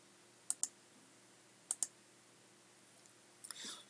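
Computer mouse clicking at a desk, two quick double-clicks spaced about a second apart, close and crisp in a quiet room, followed by a brief soft rustle.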